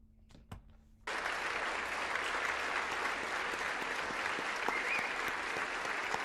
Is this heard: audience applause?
yes